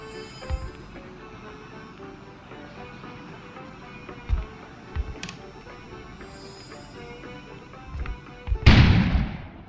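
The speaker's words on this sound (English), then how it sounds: "An explosion suddenly occurred outside." A sudden explosion bursts outside near the end, a loud, sharp blast that follows several faint thuds and a low ambient hum in the Kona video game setting.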